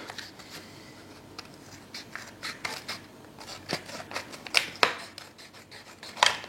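Scissors snip and scrape through the plastic wrap of a Pokémon trading card tripack, short sharp cuts and rustles up close, growing louder in bursts near the end.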